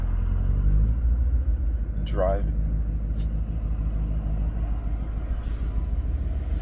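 A BMW E92 M3 driving, its low engine rumble steady and close inside the cabin, with a brief squealing sweep and a few sharp clicks, while someone talks over it.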